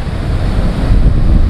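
Sea waves roll in at high tide on a Konkan beach with black rocks, a loud, continuous washing roar that swells slightly toward the end, mixed with wind.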